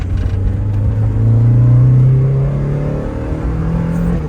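A 1987 Honda Civic CRX Si engine revs up during a downshift to third in a loud, rising whine that swells and then settles back to a steady rumbling hum, heard up close.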